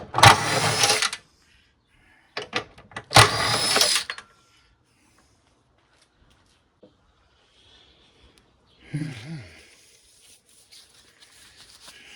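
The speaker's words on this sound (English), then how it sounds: "So I just went and cut a hole in the bottom of that compressor." A power tool cuts into the bottom of an old air conditioner compressor during scrapping, in three short loud bursts of grinding whine separated by pauses, followed by quieter metallic clatter and handling noises.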